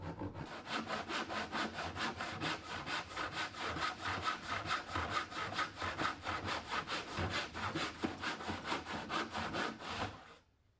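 Steady back-and-forth strokes of a hand saw cutting a long tenon in cypress wood, loud and close, in an even rhythm that carries on for about ten seconds before stopping.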